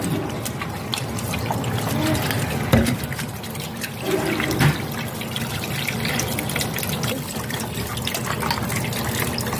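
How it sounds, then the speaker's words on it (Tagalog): Water running steadily from a tap as tilapia is washed by hand, a continuous close trickle and splash with occasional louder sloshes, no talk. "hugasan ko na po yung tilapia"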